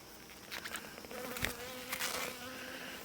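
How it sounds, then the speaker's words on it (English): A honeybee near its hive buzzes close by in uneven bursts, its drone rising and falling as it darts about, with light tapping and no speech. "This little bee decided to attack my pen."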